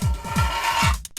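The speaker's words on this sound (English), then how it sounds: "you actually grab your toolbox and slide it over, and it sounds like this" A toolbox slides across in the Pipe video game: a short rasping, scraping slide with a few soft thumps, close and moderately loud, ending in a brief pause.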